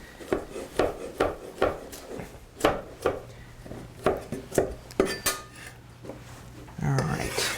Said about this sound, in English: except for this broccoli that needs to be cut